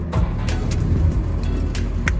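A 1954 Willys engine cranking over and catching via a foot-operated starter button, a steady low rumble with repeated rhythmic clatter, loud and close.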